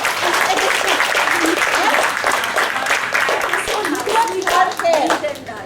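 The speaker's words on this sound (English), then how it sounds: "Let's give her a big round of applause also." An audience of parents and children at a school orientation claps in a steady, moderately loud round of applause, with some voices mixed in near the end.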